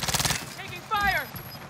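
Gunfire in Call of Duty Warzone, a rapid burst of automatic shots up front followed by a further shot or impact, with game sounds and some voice activity around them.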